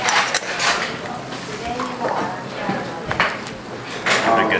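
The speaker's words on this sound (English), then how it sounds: "Give it a good mix." Sea salt being mixed into bibimbap ingredients in a bowl, with scraping and clinking of a utensil against the dish in irregular strokes, under intermittent talk.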